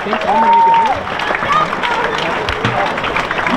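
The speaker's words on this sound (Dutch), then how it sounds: "En een heel groot applaus voor zijn broer Albert Brouwer." Applause and cheering from a crowd at the final of the Dutch duo pole-sitting championship in Kollum, loud and steady throughout, with shouts and whistles rising above it.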